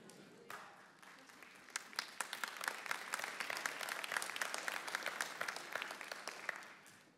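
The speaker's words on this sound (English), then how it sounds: "If you're going to clap, you clap." Church congregation applauding a preacher, a dense crowd of claps that swells and keeps going for several seconds before tapering off.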